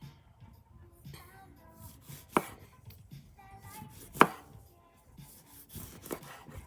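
A knife slices a lemon on a board in a light, irregular series of soft cuts, with two sharper knocks standing out, close and fairly quiet.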